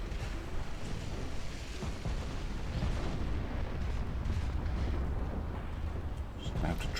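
Naval guns on warships firing steadily in a British naval battle video game, a dense continuous rumble of booming shots with no clear gaps, heavy low-end throughout.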